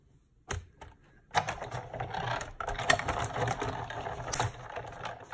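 Plates for a Stampin' Up! card crank through a die-cutting machine, giving a close run of clattering, ratcheting mechanical noise after a couple of soft knocks, with no voices.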